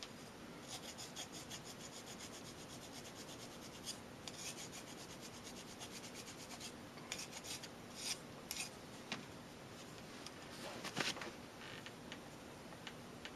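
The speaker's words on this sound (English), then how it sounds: "be very careful when you're filing, because it's going to file a lot quicker than the brass will" A small file rasps against a small brass piece for a miniature lamp post, giving quiet, close, rapid scraping strokes that continue steadily with occasional sharper ticks.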